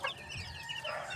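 Young backyard chicks peeping and clucking close by, a short continuous run of overlapping chirps and soft clucks.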